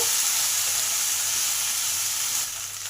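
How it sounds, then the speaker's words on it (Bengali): Okra fries in a pan with peanut masala, making a loud, steady close-up sizzle that eases slightly toward the end. There is no talk. "এই সময় ভেন্ডিগুলো দিয়ে দিলাম ওকে তিন থেকে চার মিনিট একটু ভালো করে ভেজে নেব"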